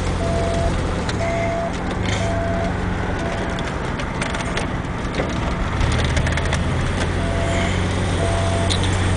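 A DeLorean sports car built as a Back to the Future time machine drives along, with a continuous engine drone and road roar heard steadily from inside the car.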